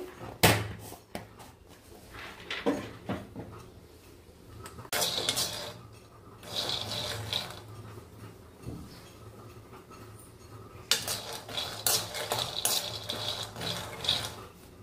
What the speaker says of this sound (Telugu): పల్లీలు వేసుకుంటున్నాను. అవి కొంచెం మంచిగా వేపుకోవాలి.